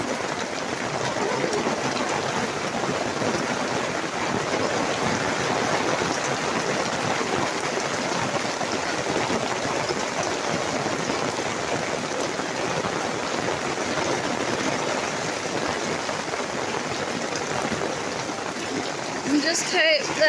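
Heavy rain falling in a wild garden, heard from under a gazebo: a dense, constant hiss of downpour drumming on surfaces for the whole stretch, with a brief rustle at the very end.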